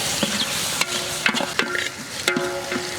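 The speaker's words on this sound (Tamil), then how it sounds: "1/2 கிலோ இஞ்சி பூண்டு விழுது சேர்த்துக்கலாம்." Ginger garlic paste frying with onions in a large pot for a spicy village-style duck curry, a steady sizzle broken by repeated scraping stirs and a few sharp clinks of the ladle, close and fairly loud, with no talk.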